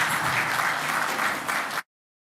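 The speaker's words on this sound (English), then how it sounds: "please, everybody, give a warm round of applause" Audience applause welcoming a speaker on stage at a cybersecurity event in San Diego: steady, dense clapping from a crowd, loud and sustained for nearly two seconds, then cutting off abruptly.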